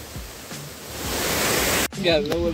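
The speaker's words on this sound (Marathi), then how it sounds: "हा सगळ्यात मोठा धबधबा रस्त्याला लागलेला आहे." A large waterfall beside the trail on the Bhimashankar trek gives a loud, steady, broad rushing roar that swells over a couple of seconds, then a voice speaks over it near the end.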